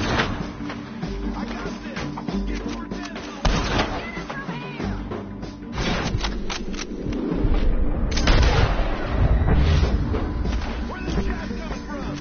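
Continuous shootout gunfire in Red Dead Redemption 2's epilogue, with dense cracks and booming impacts over a busy game soundscape, growing louder and heavier toward the end.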